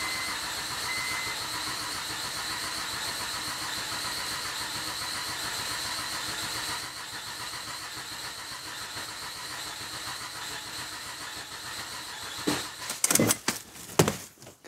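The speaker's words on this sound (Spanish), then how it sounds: "Piso el acelerador a fondo y le doy a prender." The engine of a 2005 Acura MDX with a fault that keeps it from staying running cranks steadily with the accelerator floored. A continuous, even whir is heard, then a slightly quieter stretch, then a few sharp clattering bursts near the end.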